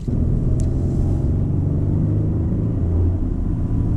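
A heavy Lexus LX600 SUV drives and corners on the road, its low engine rumble and road noise steady and close throughout, with a brief high tick near the start.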